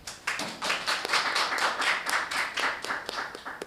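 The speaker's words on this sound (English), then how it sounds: "I think they deserve a round of applause." Several people clap for debate teams at a student debate, a modest round of applause with individual hand claps clearly distinguishable in a quick, uneven rhythm, fairly close and loud for a few seconds before it trails off.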